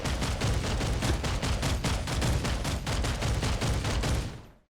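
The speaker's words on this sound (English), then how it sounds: "When you use the Basilisk, you get a good all-round weapon that can damage all vehicles and kill enemies." M20 Basilisk gun firing in the Planetside 2 video game, a rapid evenly spaced burst of about twenty heavy shots, loud and close, cutting off abruptly at the end.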